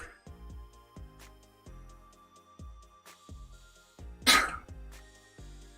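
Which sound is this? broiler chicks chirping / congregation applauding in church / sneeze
sneeze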